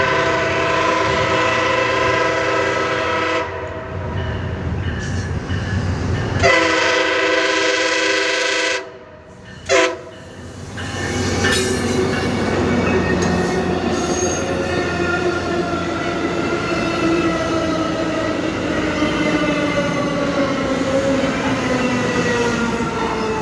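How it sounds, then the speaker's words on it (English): An MP36 locomotive leads commuter train P873 into Brunswick during the evening rush: a loud, close rumble of railcars with squealing wheels and a blast of the train horn, a brief lull, then continued rolling noise, without any talk. "here comes P873, the first of the evening rush of commuter trains, led by an MP36"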